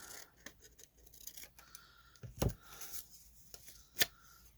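Scissors snip through paper while cutting out a paper tag, a few soft crisp cuts spread across a few seconds with two sharper snips standing out, close and fairly quiet.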